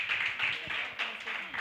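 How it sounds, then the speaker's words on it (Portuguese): A church congregation claps together in steady, dense applause that holds at an even level throughout the short stretch, with a murmur of voices mixed underneath. "As palmas louvam ao Senhor."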